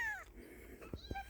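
A baby kitten found in a woodpile gives a thin, high mew, then two short chirping squeaks, close and faint, over quiet background.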